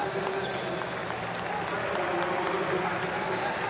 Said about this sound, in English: Some cheers from the crowd.